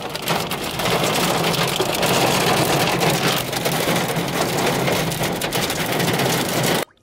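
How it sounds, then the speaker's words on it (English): Heavy hail pounding a car while parked in a Target parking lot during a storm, a dense, loud, continuous clatter that stays steady for about seven seconds, then cuts off abruptly. "This is huge, ridiculous hail."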